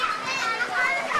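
Schoolchildren at play in Sri Lanka, their high, lively voices overlapping in a continuous burst of nearby chatter and calls.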